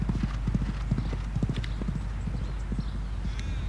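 A horse's hooves clip-clop nearby in a rapid, uneven rhythm, with a faint snort or whinny near the end and no talk over them.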